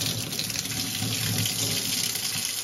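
Warm water runs steadily from a tap into a sink while chalk paint brushes are rinsed under it, a continuous close splashing gush with no pauses.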